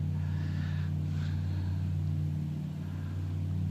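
Steady simulated aircraft engine drone in Microsoft Flight Simulator, a constant low hum with the RPMs being eased back slightly, holding level and alone throughout.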